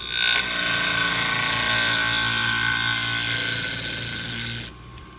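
Fiskars sewing scissors are sharpened on a hone wheel with light pressure, giving a continuous close whirring grind that holds steady for about four seconds and then stops abruptly.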